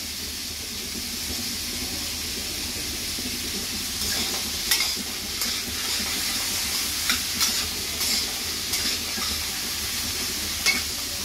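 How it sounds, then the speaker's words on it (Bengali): Potatoes sizzle steadily in a hot pan while a spatula stirs them, its scrapes and knocks coming in loose bursts in the second half over the continuous frying hiss. "আলুটা একটু ভালোভাবে নাড়িয়ে নেব"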